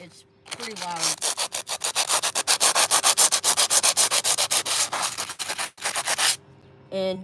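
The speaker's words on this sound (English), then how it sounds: "I get fresh sanding paper, and then I sand it" Loud, rhythmic rasping of sandpaper scrubbing back and forth against a rough surface, many quick strokes in a row, then it stops.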